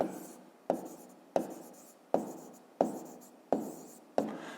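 Pen or pencil writing out a fifth-grade maths exercise on paper, seven steady scratchy strokes repeating about every two-thirds of a second, close and fairly quiet, with no talking.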